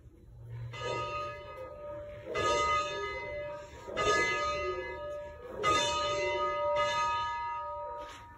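The bell of steam locomotive 790, a 2-8-0, rings out in slow, evenly spaced metallic strikes, about six clear rings with long ringing overtones, fairly close and alone.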